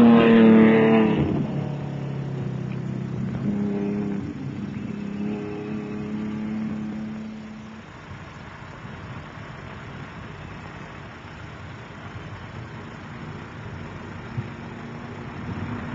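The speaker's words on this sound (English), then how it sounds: "Overall leaders, Herman and Schuller in a Datsun" Rally cars racing on a dirt road at the 1971 Safari Rally, including a Datsun: a loud engine roars close by for the first seconds, then a steadier, more distant motor drone continues to the end.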